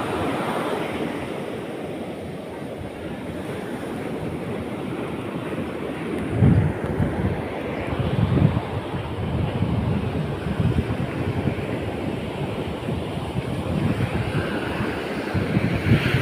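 Sea waves roll at a beach, a continuous low rumbling wash with wind buffeting the microphone and a few louder surges, alone without talk.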